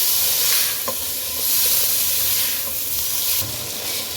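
Tomatoes and green chillies sizzle with onions in a hot pan, a loud, steady frying hiss broken by occasional stirring clicks, with no voices.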